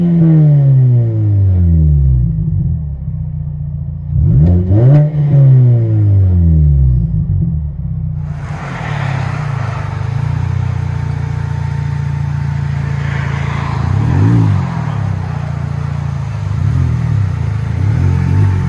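Engine of a 2004 Mini Cooper with a Magnaflow exhaust, heard from inside the cabin: two loud revs rising and falling in the first five seconds, then a steady droning rumble with a few smaller blips, no talking.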